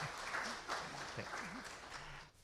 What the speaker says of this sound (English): So if we can hold the applause till after the second round of the question.